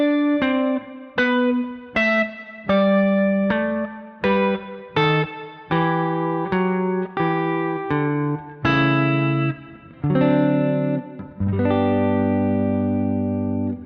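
An electric guitar plays the intro to a song slowly. Distinct picked chords ring out one after another in an even rhythm, with effects coloring the tone, building to fuller, sustained chords near the end. No talking.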